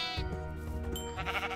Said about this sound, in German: So, jetzt haben wir neue Schafe im Gehege.